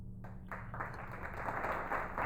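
Canned applause sound effect plays as a steady crowd clapping over a low humming background bed, continuous for a couple of seconds.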